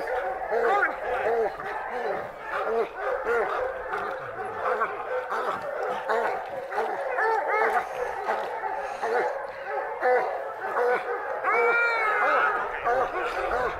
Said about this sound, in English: I think we got another walker dog coming